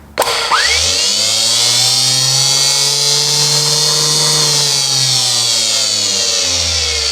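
A newly installed boat anchor windlass motor spins up sharply to a very high RPM, a loud steady whining hum with strong harmonics that holds for several seconds before easing off slightly, with no talk over it.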